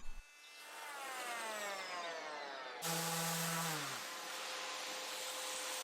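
Power tool shaving excess wood off a warped cabinet side piece during a restoration, a steady loud whine with shifting pitch that jumps harsher midway and runs continuously without talk.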